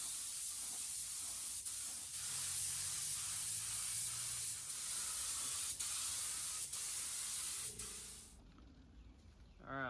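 Gray base coat, Rhino Gray, sprayed over chrome: a loud, steady aerosol hiss runs for about eight seconds with slight pulses, then cuts off abruptly into quiet.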